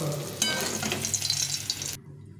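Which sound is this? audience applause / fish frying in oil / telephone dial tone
fish frying in oil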